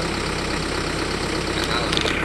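A Jeep Cherokee diesel engine runs steadily at idle, a continuous low rumble at close range with no pauses.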